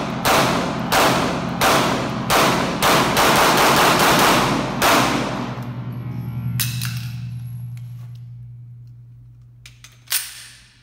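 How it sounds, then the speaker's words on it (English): Gunfire from a CZ P-10c pistol at a shooting range: about eight sharp, loud shots in a fast, steady string, then a lower rumble and a few isolated later cracks, with no voices. "So you can see the pistol's functioning how it should"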